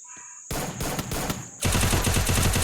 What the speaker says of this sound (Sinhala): වෙඩි සද්ද දෙකක්ම ඇහෙනවා